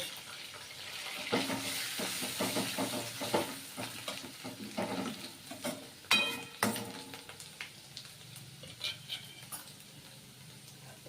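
Turmeric sizzles softly in hot oil in a pan, with scattered crackles and a few sharper pops and scraping stirs, close and fairly quiet.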